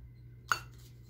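Pink nesting bowls knocking together in a single brief, bright clink, close and fairly quiet against a low hum, with no one speaking.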